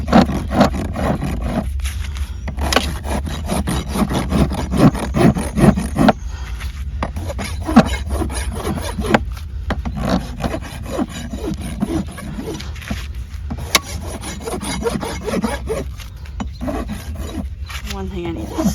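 Rasp scraping a horse's hoof to bevel it during trimming, long repeated rough strokes in a steady rhythm with brief pauses, close and loud over a low background hum.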